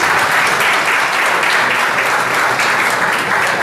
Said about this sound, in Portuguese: Uma salva de palmas para a professora da Maria Rita.